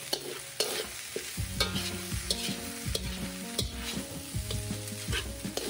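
Indonesian nasi goreng, rice fried with sweet soy sauce, is stirred in a pan under a constant sizzle, while a utensil scrapes and knocks against the pan in repeated strokes and a low hum sits beneath.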